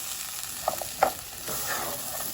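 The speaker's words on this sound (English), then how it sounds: "Even if we just saute it for a minute and get it a little toasty" Onion and garlic sautéing in a pot for creamy lentil soup, giving a soft steady sizzle with a few brief stirring clinks and scrapes partway through.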